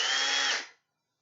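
A power drill whirring briefly as it makes light marks through a template, one short high-pitched burst held steady, then winding down and stopping abruptly into silence.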